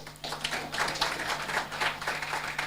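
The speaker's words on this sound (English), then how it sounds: "Please clap for my boss." An audience claps at the Dominica Calypso Hall of Fame induction ceremony, a moderate, uneven patter of many hands at a middle distance, rising and falling without any voices.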